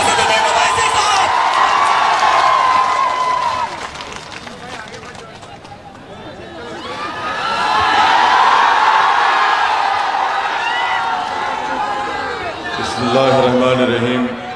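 A large crowd at an AIMIM political rally in Kishanganj cheers and applauds to welcome Asaduddin Owaisi. The loud roar swells, dips, then rises again, with shouting voices mixed through the din.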